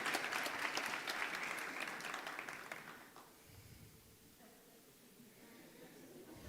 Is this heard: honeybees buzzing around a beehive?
no